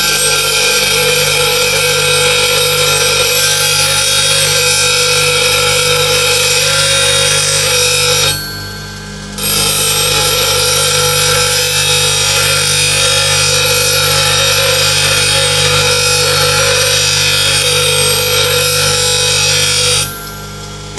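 Bench grinder with a CBN wheel sharpening a steel tool bevel, a loud steady high grinding hum that runs continuously with one brief drop around the middle, close up.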